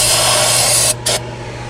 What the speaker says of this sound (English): Let's see if spraying some brake clean in this thing and cranking it, see if it'll fire then.